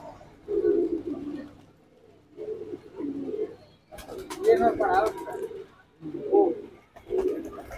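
Guldar pigeons in a breeding setup coo in repeated soft, throaty phrases with brief pauses between them, close and clear.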